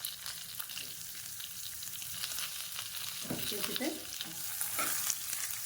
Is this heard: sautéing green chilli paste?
yes